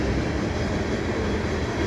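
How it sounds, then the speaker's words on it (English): A loud, steady broadband rumble of an eastbound CN freight train rolling past near St. John's Boulevard in Pointe Claire, Montreal, continuous and close with no pauses. "that's an eastbound CN train here in Pointe Claire on the staircase"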